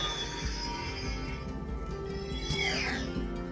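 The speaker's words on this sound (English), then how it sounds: "It sounds like a Darksaber" Toy Darksaber blade switched on, humming with a low buzzing drone, then a swooping electronic whoosh that sweeps up and down near the end, heard close and fairly quiet.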